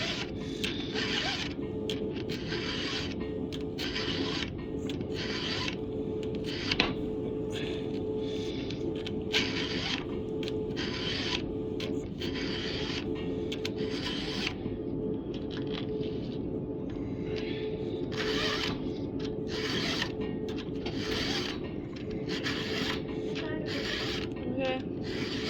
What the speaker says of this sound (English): you can actually see all the metal flying off as you're filing it